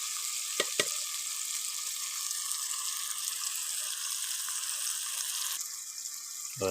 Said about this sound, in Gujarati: મસાલાને ઘડીક પકવવા દઈએ.